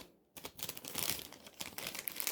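Plastic packaging around a Garmin Fenix 5S watch charging cable is peeled and unwrapped close by, giving a dense run of crinkling and crackling that starts after a brief quiet moment, with no talking.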